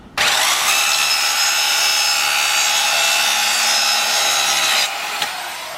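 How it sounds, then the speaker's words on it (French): A jigsaw cuts a wooden plank in a garden, a loud continuous buzzing rasp starting abruptly and running steadily for nearly five seconds before stopping. "il s'amuse avec une planche et puis une scie sauteuse"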